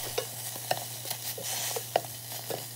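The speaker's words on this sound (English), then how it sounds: "Shake or stir the spices to ensure even cooking" Whole spices toast and rattle in a dry pan as they are stirred for oxtail pho, giving soft scraping and a light sizzle with a few sharp clicks, close and quiet with no voices.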